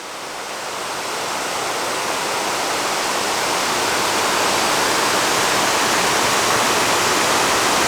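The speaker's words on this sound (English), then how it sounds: "And here's the top of the falls. This is where it turns from just a creek into that solid rock slab." Water rushes at the top of a waterfall where a creek pours over a solid rock slab, a loud, constant hiss and roar that swells slightly and then holds steady, with no voices.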